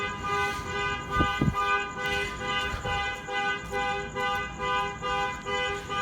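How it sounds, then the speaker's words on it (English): A car alarm blares steadily with a repeating electronic tone pattern, loud and continuous throughout, with a couple of brief knocks partway through. "Gotta hate car alarms."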